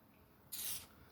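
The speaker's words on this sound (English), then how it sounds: "a little bit spray on the mechanisms that move." A short hiss of spray lubricating oil is applied to the moving mechanism of a garden tool during a tune-up, one quick close burst lasting under half a second.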